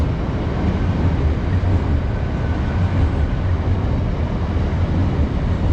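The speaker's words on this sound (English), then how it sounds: "as the train is passing overhead here" Steady, loud rumble and clatter of a train passing overhead close by, continuous throughout with no voices.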